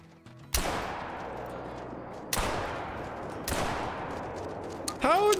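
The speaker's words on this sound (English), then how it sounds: "How in the heck did I just miss those shots?" Three sharp rifle shots ring out about two seconds apart while hunting raccoons in the game Call of the Wild, each a loud crack trailing off in a long echo, with a brief metallic reload-like sound at the end.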